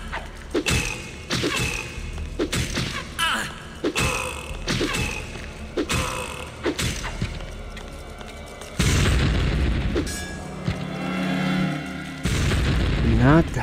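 An enemy shot fires in the game Technomage: Return of Eternity, one of a series of sharp booming bursts and pops repeating at irregular intervals amid mechanical game sounds, with talking mixed in.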